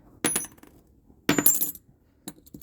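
Coins dropped onto a hard surface, copper-content coins compared with 90% silver ones, giving two sharp bright metallic clinks with short ringing tails and a softer third tap near the end.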